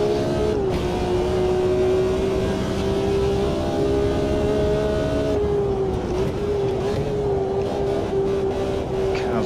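Race car engine in the Automobilista 2 sim racing game, a loud steady droning tone holding near constant pitch with small dips as the revs settle, continuous and close.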